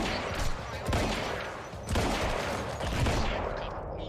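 Sniper gunfire in Quantum Break, with several heavy booming shots spaced roughly a second apart and dense reverberant noise between them, loud and without speech.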